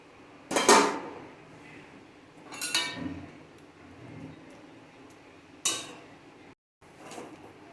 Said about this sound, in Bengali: এবারে আগে থেকে যে ভাজা উচ্ছেগুলো ছিল সেগুলো দিয়ে দিচ্ছি